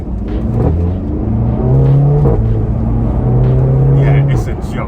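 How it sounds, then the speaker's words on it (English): Audi TT Mk3 with a Stage 1 remap and an induction kit drones and pulls in a steady, rising engine note, heard continuously under someone talking over it. "The noise of the car is way better. It's louder. It's the induction kit, you can hear it sucking in more air all the time."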